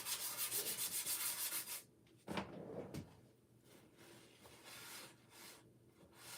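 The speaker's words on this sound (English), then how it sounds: "You want to sand this lightly. Okay, this is an old sandpaper that was like 400 grit." Old 400-grit sandpaper is rubbed lightly over wood, first as a quick rhythmic back-and-forth scrub for about two seconds, then as softer, scattered rubbing and handling noises, all faint and close.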